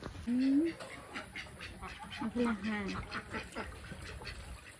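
A couple of loud, nasal duck quacks stand out over a busy outdoor background of ducks and chickens and faint voices.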